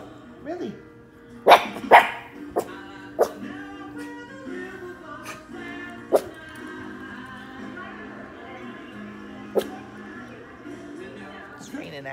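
A dog barks several times in sharp, irregular bursts, near and loud, with a person speaking in between the barks, while it rains outside.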